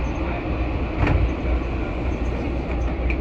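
A DC Metro train runs through Rosslyn station, with a steady rumble of the cars and wheels in the underground and a few faint clicks and squeaks over the drone.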